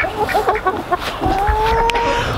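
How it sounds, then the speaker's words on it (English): Chickens clucking in an old apple orchard under restoration, several birds making short, repeated clucks at close range, with a drawn-out call rising near the end. "We have the chickens over here in our apple orchard restoring an old apple orchard."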